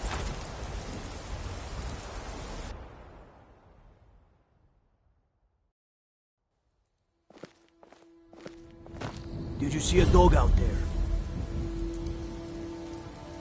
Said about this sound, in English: This rain will stop eventually.